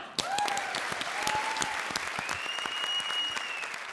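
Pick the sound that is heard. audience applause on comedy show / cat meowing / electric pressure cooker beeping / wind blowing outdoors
audience applause on comedy show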